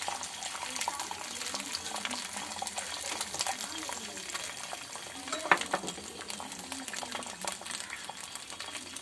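Beaten egg frying on a hot griddle for an omelette, a steady close sizzle running through the whole stretch with one sharp clink partway.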